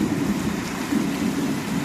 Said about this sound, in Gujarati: અને પવન સાથે વરસાદ ચાલુ થઈ ગયો છે જો અત્યારે જોરદાર